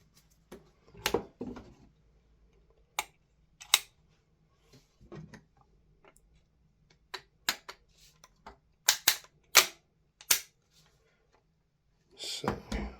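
Parts of an MK18 rifle, the bolt assembly and lower receiver, clicking and snapping together in a string of sharp, separate metallic clacks against a quiet background.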